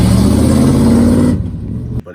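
A 90s Chevy truck with a 5.7 liter 350 V8 and a rod knock runs close and loud, a steady engine drone with a regular rapid knocking pulse, then drops off abruptly as it cuts out.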